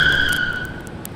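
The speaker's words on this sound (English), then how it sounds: "The tire squeal was great." A car tire squeal sound effect in a sound design piece, a short, bright, sustained screech that holds loud and then fades slightly over about a second.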